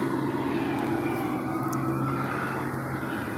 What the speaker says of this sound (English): Helicopters surrounding a location.